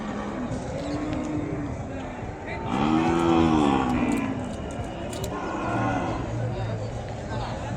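An Ongole calf at a Sunday cattle market in Kodada gives a loud, drawn-out moo, with a second lower call later, amid crowd noise and nearby talk.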